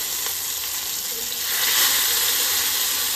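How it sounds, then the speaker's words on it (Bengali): Fish frying in hot oil gives a loud, steady, broadband sizzle that swells slightly midway and hisses on without pause. "তেল বসিয়ে দিয়েছি মাছ ভাজার জন্য"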